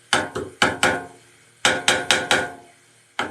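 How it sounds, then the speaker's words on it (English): A hammer taps a wooden lidded box to knock its lid loose, likely on a lathe. Eight sharp, close wooden knocks land in two quick bursts, each ringing briefly before the next. "That's not enough, so we're going to go back to the hammer."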